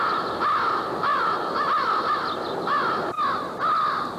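Crows caw in a steady series of harsh calls, about one per half second, in a town in Essex County. Several birds overlap, close and loud, with no talking.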